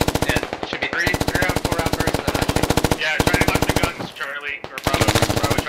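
Sustained automatic gunfire in the Squad video game comes in long, loud, rapid bursts with brief pauses between them, while voices talk under and between the shots.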